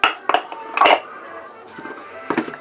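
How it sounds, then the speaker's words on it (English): An old universal coffee grinder's wooden drawer is slid back into its base, giving a few close clattering knocks and clinks, with quieter handling sounds in between. "And put the drawer back in."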